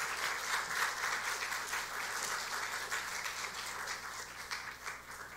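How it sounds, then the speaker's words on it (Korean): A church congregation at a Friday late-night prayer service applauds in a dense, steady wash of clapping, heard at a distance and fairly faint. "큰 박수 부탁드립니다."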